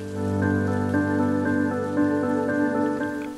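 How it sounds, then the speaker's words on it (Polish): Rain falling over the Kraków-Częstochowa Upland, a steady patter with regular dripping beats laid over a constant low tonal hum, continuous and fairly loud throughout. "Góra Krakowsko-Częstochowska przywitała nas deszczem."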